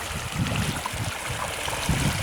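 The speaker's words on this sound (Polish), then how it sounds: "nie możemy iść dalej przez tą wodę na środku, która przepływa" Water flowing across a path outdoors, a continuous close rushing and gurgling of a small stream, steady and fairly loud with no voices.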